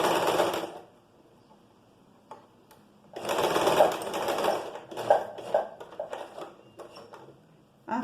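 Close, clear bursts of a sewing machine stitching fabric for a top, a rapid mechanical whirring chatter that stops and starts with quiet gaps between runs.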